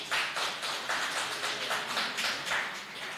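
Audience applause at a SACCO's annual general meeting, a steady wash of many hands clapping throughout, fairly loud, with no talk over it.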